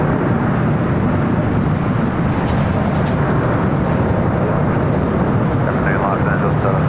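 An Air New Zealand Boeing 777 landing on runway 25 left at LAX, heard as a loud, sustained, broad jet roar that holds steady throughout, with no clear talking.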